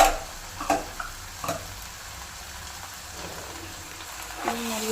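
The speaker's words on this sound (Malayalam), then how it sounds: "ഇതിനെല്ലാം നമുക്ക് നല്ലപോലെ ഈ മസാലയെല്ലാം പിടിക്കാൻ വേണ്ടി നല്ലപോലെ ഇന്ന് മിക്സ് ചെയ്ത് നല്ലപോലെ ഇളക്കി യോജിപ്പിക്കുക" Spice masala for chicken kabsa being stirred and mixed in a pan, a soft continuous sizzle with a few scraping stir strokes, quiet and close, with no talk.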